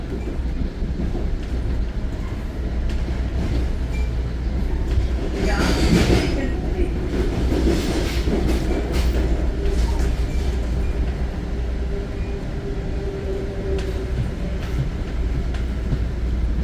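Continuous low rumble of an Exo commuter train rolling along rails between Vendôme and Sainte-Anne-de-Bellevue, Montreal, with a brief burst of screeching or rattling midway; steady and close, no voices.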